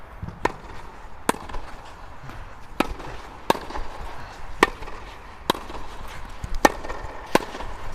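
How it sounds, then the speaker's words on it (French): Tennis volleys struck with a Wilson Shift 315g racket, about nine sharp crisp ball impacts at irregular intervals of roughly a second, close and clear over a quiet outdoor court background with no talking. "Test de la Wilson Shift à la volée."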